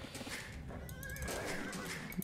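Horses neighing and whinnying inside the medieval strategy game Age of Empires 2, with clip-clop hoofbeats from a mass of about twenty cavalry attacking villagers; a steady game-sound bed with one clear rising whinny midway, no talk.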